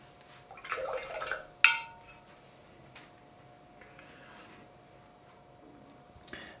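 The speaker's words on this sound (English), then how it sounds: "I've just rinsed the brush out, flicked it out a bit" A watercolour brush is rinsed in a water pot and flicked dry, giving a soft burst of sloshing water followed by one sharp flick, then quiet with a faint later tap.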